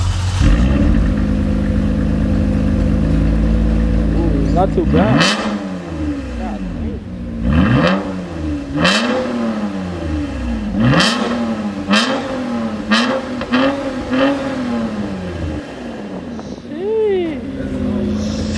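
Toyota TRD truck engine fitted with custom quad exhaust tips revs loudly in a series of sharp, rising bursts, each blip falling back to a deep idle, with people talking over it.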